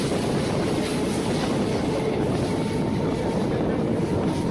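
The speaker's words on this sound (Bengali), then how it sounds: "আমাদের ট্রেন এখন বারুইপাড়া স্টেশন থেকে ছাড়লো" A local train pulling out of Baruipara station, a loud, steady rumble with wind roar heard from inside the carriage, unbroken throughout and without voices.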